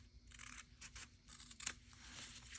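Paper trimmed with scissors, a short run of soft crisp snips and rubbing, quiet and close, with a sharper cut near the middle and no talk.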